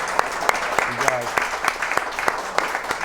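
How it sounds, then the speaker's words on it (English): A crowd claps steadily at a basketball coach's show, a dense patter of hand claps filling the room with a few voices mixed in. "give yourselves a round of applause"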